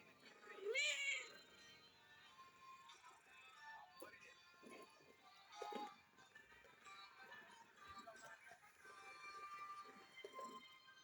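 A pet cat gives a clear, nearby meow early on, followed by softer rustling and a few faint sounds over quiet room ambience.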